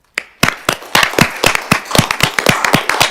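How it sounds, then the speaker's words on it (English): A round of applause at a council meeting: a small group of people clapping close by in a room, the claps distinct and fairly loud, starting abruptly and continuing irregularly. "And I'd like to propose a round of applause."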